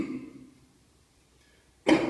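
A single short cough near the end, loud and close, after a faint fading sound and a moment of near silence.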